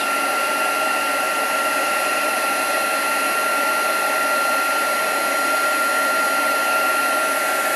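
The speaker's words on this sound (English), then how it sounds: "the heat gun, and watch the embossing powder melt and then move it on" A heat gun melting embossing powder on a card gives a steady, loud, even whirring blow with a high whine, unbroken for the whole stretch and with no talking.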